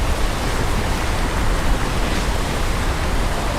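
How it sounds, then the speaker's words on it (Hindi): A powerful waterfall roars steadily at close range near Anini in Arunachal Pradesh, a dense, unbroken rush of crashing water that fills the whole clip with no voices. "यहाँ पर खड़े होकर इस वाटरफॉल की जो आवाज़ आ रही है वो इतनी तेज़ आ रही है"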